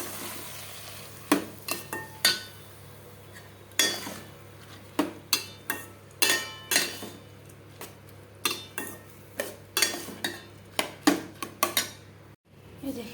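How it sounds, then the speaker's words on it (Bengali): Khichuri of dal and rice frying in a pot is stirred with a metal spoon, which makes a long series of sharp, close scrapes and clinks in an irregular rhythm over a soft, constant sizzle. "এই যে খিচুড়িটা ভাজা ভাজা হোক"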